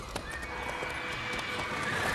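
Roach, the horse in The Witcher 3, gives a short neigh among hoof clatter, close and fairly loud over a busy background.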